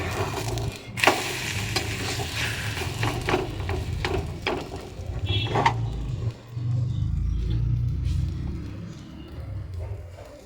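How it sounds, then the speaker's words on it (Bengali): Egg batter with chopped onion and green chili frying in a pan for roti, giving a steady close sizzle with scraping and stirring clatter throughout, no talking. "ডিম দিয়ে এই যে আজকে গোলা রুটি এখন করে খাবো"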